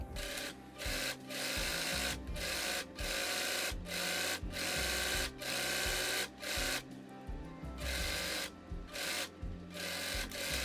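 A sewing machine stitches dress straps in steady bursts of whirring, each run broken by short pauses, close and fairly quiet with no talk over it.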